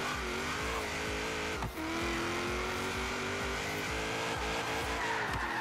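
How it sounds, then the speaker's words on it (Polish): A rear-drive Dodge Dart drifts on asphalt in Forza Horizon 3, its game engine holding a strained, steady drone while the tires squeal continuously with rhythmic pulsing, one brief dip partway through, and no talk. "ja tu mogę driftić tym autem, widzę"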